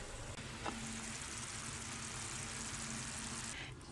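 Pork simmers in soy sauce in a pan on low heat, giving a constant soft hiss and sizzle, close but faint. It runs evenly through the whole stretch with no speech.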